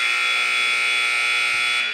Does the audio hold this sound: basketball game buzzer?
yes